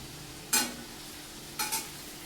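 Curry leaves frying in a pan for dried fish chutney, a low steady sizzle punctuated by two sharp stirring scrapes.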